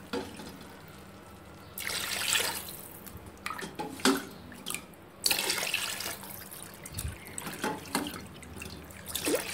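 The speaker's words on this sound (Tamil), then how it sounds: "இப்போ 6 கிளாஸ் அரிசிக்கு 12 கிளாஸ் தண்ணி ஊற்ற போகிறேன் பாருங்க" Water poured by the glassful into a pot of rice for ghee rice, several separate splashing pours of a few seconds each, fairly close, separated by quiet gaps with light drips.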